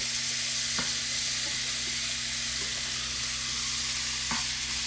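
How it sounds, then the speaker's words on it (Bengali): Onions frying in oil until crisp and brown, a loud, dense sizzle that holds steady throughout, with a couple of light stirring clicks and a low hum beneath. "পেঁয়াজগুলো সুন্দর করে ভেজে নামিয়ে দিব। একটু কড়া করে ভাজবো।"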